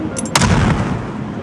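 Rocket launcher fired in a video game: a sharp launch blast followed by a rumbling boom that trails off, loud and close amid busy game noise.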